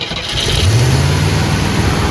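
A 1961 Cadillac engine, long abandoned, catches and runs, its low rumble climbing as it revs and then holding steady, loud and close with no talking.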